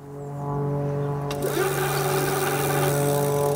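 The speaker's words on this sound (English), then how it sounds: "Now, if John twists the accelerator and lifts the wheel off the floor," A budget eBike's hub motor, driven by the twist accelerator, spins the lifted wheel, giving a loud steady electric whine with a rising pitch as it speeds up, close by and with no voice over it.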